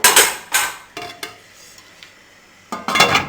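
A lid is set onto a cooking pot of water for chicken and pea pulao, giving a few sharp metallic clanks and scrapes with short gaps between them, loud and close, with no talking.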